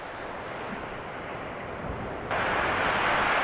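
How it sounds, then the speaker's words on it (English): Waves wash over shore stones on a coastal walk near Johnshaven, a steady close rushing surf that swells louder toward the end, mixed with wind blowing across the microphone. "I can hear the sound of the stones, folks, with the water going away, the waves."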